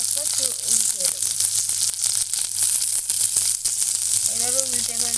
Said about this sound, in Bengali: এভাবে উল্টে পাল্টে পাতুরিগুলো আমি লাল লাল করে ভেজে নেব